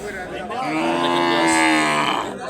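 A cow at a cattle market gives one long, loud, nearby moo that swells and fades over about two seconds, over a low murmur of market noise.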